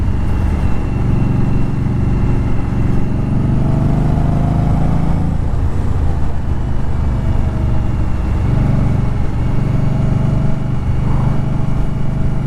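A 2018 Indian Scout Bobber ABS motorcycle being ridden, its exhaust a steady low rumble blended with constant wind buffeting, continuous throughout with no voices.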